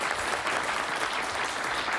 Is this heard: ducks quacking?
no